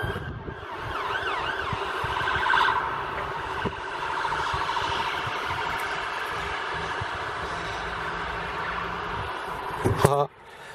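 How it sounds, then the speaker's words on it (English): A wailing siren sweeps up and down early on, then settles into a steady droning tone, with a person talking over it and a clatter at the end. "And action with the siren."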